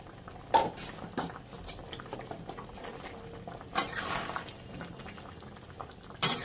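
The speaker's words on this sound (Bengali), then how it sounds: "ঝোল ভালো করে ফুটে গেছে।" Chhana kalia curry gravy bubbles in a pan, a soft, low simmering patter with a few sharp clinks of utensils against metal, quiet and close.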